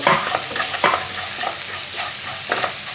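Sliced onions and dried red chillies fry and sizzle in a pan for kozhukatta, with steady crackling and several sharp stirring scrapes close up.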